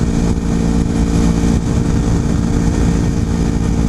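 A 250cc motorcycle engine runs steadily while riding, a loud continuous low drone with a constant rumble and no talk over it.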